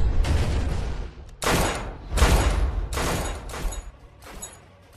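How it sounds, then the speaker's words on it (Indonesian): Gunfire in an Indonesian drama scene, heavy booming volleys fired in several loud bursts separated by short pauses, close and forceful, no speech over it. "Tembak mereka sampai berkeping-keping."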